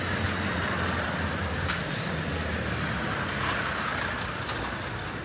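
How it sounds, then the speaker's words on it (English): Trucks rumble past on a street in London, giving a steady, broad wash of engine and road noise. It stays fairly even for several seconds, with nobody speaking. "trucks going by"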